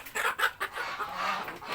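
Fayoumi and native laying hens cluck in a short run of soft, close clucks on a small farm with roosters nearby.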